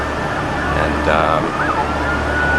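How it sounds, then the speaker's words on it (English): A siren wails at a distance over steady traffic and street noise, its pitch sweeping up and down, with faint voices in the background. "now there's a lot of police activity and sirens"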